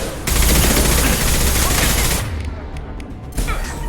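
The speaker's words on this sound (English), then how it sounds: "Firing an impact shot!" Impact shot gunfire in Mass Effect 2 combat: a dense, loud burst of rapid shots and blasts for about two seconds, then quieter crackling and a final sharp report.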